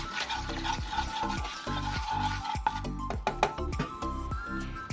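A spoon stirs coconut oil with turmeric and salt in a pan, producing rhythmic scraping strokes and light clinks over a soft background hum, close and moderately quiet, with no talking.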